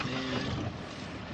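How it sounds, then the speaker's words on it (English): Wind buffets a fishing boat out on the water off California, a loud, close rushing roar across the microphone, with a single word spoken briefly underneath. "It's starting to get pretty windy out here too."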